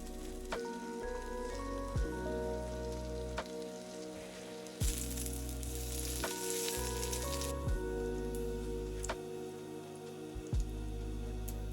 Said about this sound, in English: So instead I'll do my cooking on a butane camp stove.